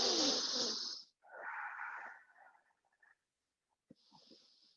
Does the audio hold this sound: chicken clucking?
no